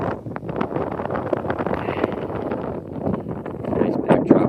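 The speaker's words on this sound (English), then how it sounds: "Wind's picking up." Gusty wind on a steep mountain trail while descending San Jacinto, blustering against the microphone in uneven rushes that swell louder toward the end.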